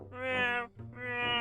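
A voice imitates a cat's meow, two long, loud, whiny, creaking cries with a short break between them, close and alone, like a squeaky broken swing set.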